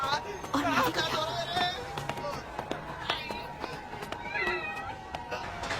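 A cat meows several times in an animated scene, its cries rising over busy background noise and people talking.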